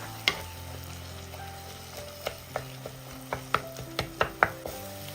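Cooked tomatoes being mashed in a pan, a series of distinct taps and knocks of a spoon against the pan, growing more frequent toward the end, over a faint sizzle.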